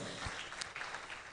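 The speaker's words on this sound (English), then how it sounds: "on behalf of all the Ugandans, let's give Sarah a bigger round of applause" Brief burst of audience applause at a Uganda–Tanzania business and investment forum, a dense, moderately distant clatter of many hands with no talking.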